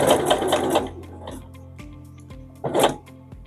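A sewing machine stitches fabric pleats in rapid bursts, running briefly, pausing with a few faint mechanical clicks, then running again up close and loud.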